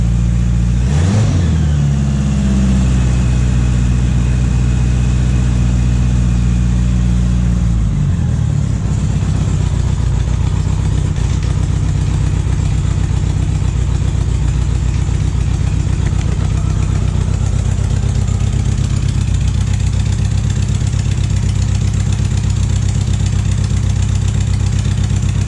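A Honda GL1000 motorcycle engine runs loud and close, with a brief rev near the start and another around eight seconds before settling into a steady, even idle rumble that continues alone.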